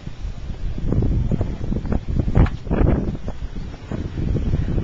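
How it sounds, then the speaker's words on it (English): Steady wind buffeting a microphone in Quebec City, a continuous low rumble with gusty surges throughout, close and fairly loud. "Very windy today."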